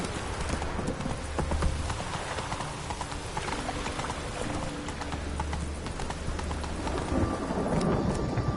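Horse hooves clip-clop steadily while riding in The Witcher 3: The Wild Hunt, a rhythmic gallop over rumbling rain and thunder, fairly close and continuous throughout.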